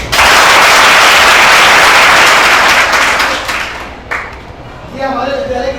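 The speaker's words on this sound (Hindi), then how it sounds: "सभी बच्चे मिलकर उनके सम्मान में जोरदार तालियां बजाएं" Schoolchildren at a school sanitation health-awareness programme clap loudly and densely for several seconds, the applause thinning and fading out toward the end while a voice begins speaking.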